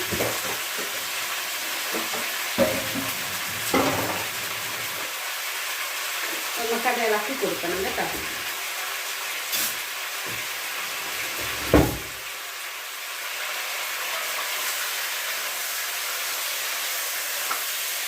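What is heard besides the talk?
stirring ingredients frying in a pan for chilli chicken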